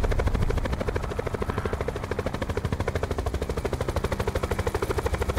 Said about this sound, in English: That's a fucking helicopter.